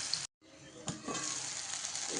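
Chopped onions and spices fry in oil for a Bombay duck dish, giving a steady, close sizzle after a brief silent gap near the start, with a soft stirring knock under the crackle.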